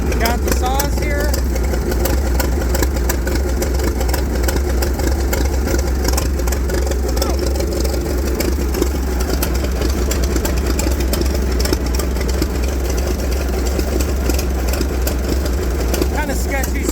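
A McCormick Deering 10-20 tractor engine runs steadily at close range for the whole stretch, a constant low mechanical rumble with a person talking over it as the old tractor is parked.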